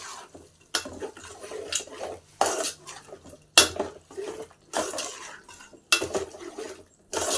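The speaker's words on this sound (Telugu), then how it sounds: "1/2 కేజీ అండి, 1/2 కేజీ చికెను శుభ్రంగా వేసుకొని ఇలా కలుపుకుందాం." Half a kilo of chicken is stirred in a cooking pot for a cucumber chicken curry, with repeated clattering scrapes of a utensil against metal and wet mixing sounds in irregular bursts, close and fairly loud.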